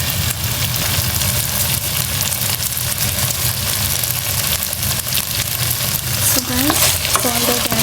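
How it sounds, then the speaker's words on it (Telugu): Salted potatoes fry in oil in a pan for a palak potato curry, giving a loud, steady sizzle with stirring scrapes throughout. A voice is briefly heard near the end. "సో బాగా మిక్స్ చేసుకుని ఈ పొటాటోస్, ఈ బంగాళదుంపలు మొత్తం ఈ ఆయిల్లోనే సాఫ్ట్గా మెత్తగా అయ్యేంత వరకు మగ్గించుకోవాలి."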